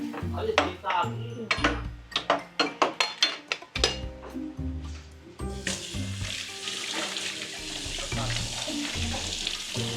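Garlic frying in a pan at a home birthday gathering, with a run of sharp clattering utensil strikes followed by a broad, steady sizzle as people talk nearby.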